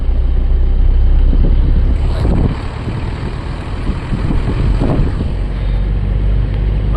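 A learner driver's car engine revs as it accelerates on the road, a loud, steady, broad roar mixed with wind buffeting that dips briefly midway and then builds again, with no talking.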